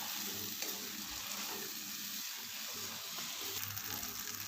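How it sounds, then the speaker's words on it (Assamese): Pointed gourd fries with spices in oil for doi potol, a close, steady sizzle with intermittent stirring scrapes and clatter, no voices. "এতিয়া মই পটলকেইটা দি দিম, মিলাই ল'ম আৰু অকণমান সময় পটলকেইটাৰ লগত মছলাখিনিৰ সৈতে ভালদৰে ভাজি ল'ম"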